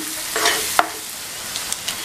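Garam masala and other spices sizzle and stir in a hot pan, a soft frying hiss with a few scraping clicks of a utensil, no talking.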